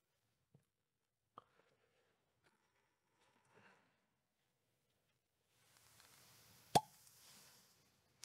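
A cork pulls from a large, bulgy bottle of Chivas Regal 18-year-old whisky, giving one sharp, close pop after faint handling clicks and a soft rustle, in an otherwise quiet room.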